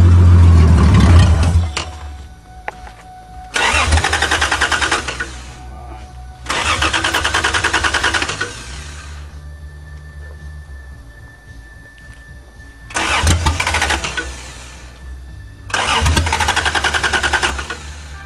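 A 1982 Toyota Cressida running on stale fuel cranks loudly over several attempts separated by quiet gaps, each burst of starter and engine noise close and harsh, until the engine catches on a later try.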